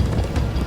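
Horses gallop in the Minecraft Story Mode video game with rapid, continuous clip-clop hoofbeats mixed into dense game sound, loud and close throughout.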